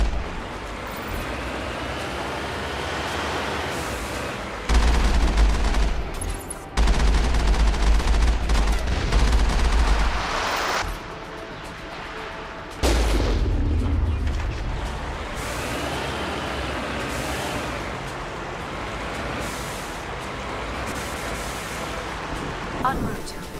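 Video game battle with enemy artillery booming alongside rapid gunfire, heavy repeated blasts and rattling bursts layered in a dense, loud, continuous barrage.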